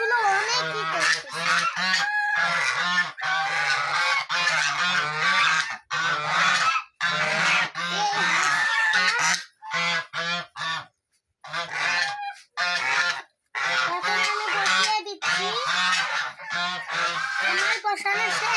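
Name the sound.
geese honking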